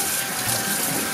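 Tap water runs steadily while green peppers are washed in a kitchen, a continuous close splashing rush with no talk.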